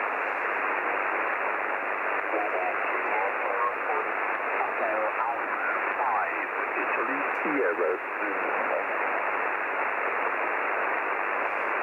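Ham radio reception on the HF amateur bands, a steady band of loud hiss and static with a faint, garbled voice transmission buried in the noise throughout.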